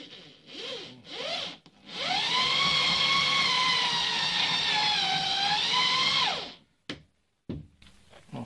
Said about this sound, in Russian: За один раз не просверливая, потому что фреза забивается.